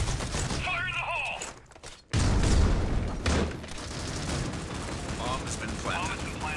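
A grenade explodes in the Critical Ops first-person shooter: a sudden, loud burst cuts in after a brief lull, surrounded by steady gunfire, clattering game effects and a voice.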